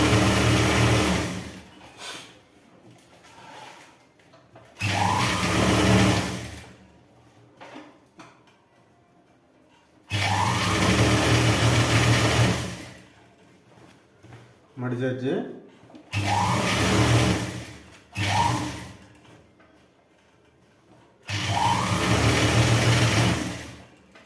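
A sewing machine stitches a folded two-inch trouser hem in several loud, close bursts of fast whirring, separated by quiet pauses in which a person speaks briefly.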